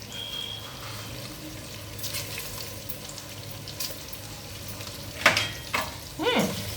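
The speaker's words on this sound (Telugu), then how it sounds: "ఇప్పుడు వాటర్ మరుగుతుందండి" A pot sits on the heat while its water is working up to a boil, giving a continuous bubbling hiss with faint clinks, then a few sharper utensil scrapes toward the end; no talk is heard.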